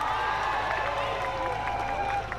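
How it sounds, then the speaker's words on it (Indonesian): Crowd applause and cheering at the opening ceremony of the 2019 Bali provincial sports games (PORPROV) in Tabanan, a dense, steady wash of many hands clapping throughout. "Boleh minta tepuk tangan yang paling meriah."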